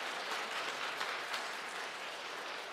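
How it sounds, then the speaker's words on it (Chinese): A church congregation at a Sunday service applauds a children's choir singing for the first time. The clapping is steady and rather distant, filling the room evenly, with no talk. "拍手鼓励他"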